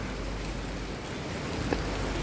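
Steady, dense rain pours down outdoors during a typhoon with strong wind, a continuous hiss of drops on surfaces filling the whole stretch at even loudness.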